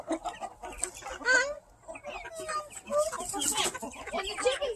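Chickens cluck and squawk in scattered bursts, fairly close, with a few sharper calls rising over soft background chatter and movement.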